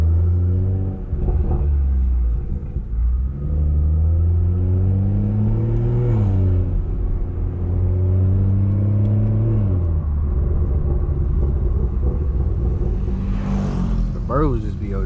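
BMW 340i with a big turbo and straight-pipe exhaust, a deep, loud close drone rising and falling with throttle, with popping burbles near the end while people talk over it.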